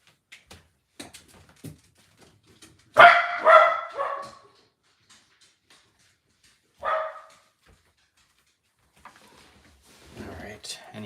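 A dog barks in a short loud burst, then once more a few seconds later, sounding fairly close in a quiet room with faint soft voice and small handling noises around it.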